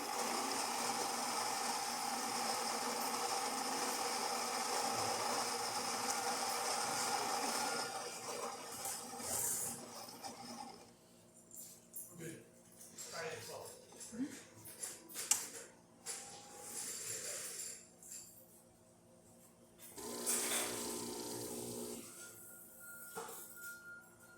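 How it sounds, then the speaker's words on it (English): An espresso machine, just serviced, pulls a lungo shot: a steady, fairly loud pump drone for about ten seconds, then a quieter trickle with light clinks and taps nearby. "I'm just going to pull a shot with that setting just to show that the machine is working"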